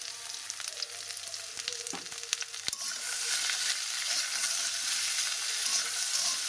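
Potato and eggplant chunks fry in oil with dried red chili and bay leaf in a pan, giving a steady hiss; sharp clicks of stirring come first, then the sizzle settles into an even, close wash.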